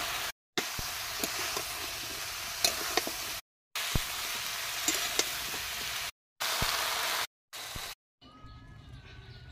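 Chopped taro sizzles in hot oil with garlic paste and spices, a loud, close, steady frying hiss broken by short pauses and the clink of stirring.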